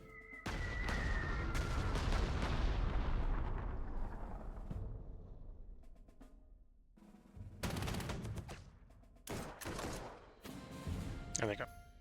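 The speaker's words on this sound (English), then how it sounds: "Have our carpet bomber come in and carpet bomb a bit." Carpet bombing by a bomber aircraft in the Panzer Corps 2 wartime strategy game: a long rumbling barrage of blasts that fades out, followed by several separate sharp explosive bursts, with talk over the top.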